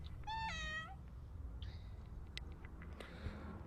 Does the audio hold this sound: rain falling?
no